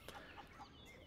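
Chickens clucking in the Red Dead Redemption 2 roleplay game, a few soft, short clucks close by over a steady background hum, no talking.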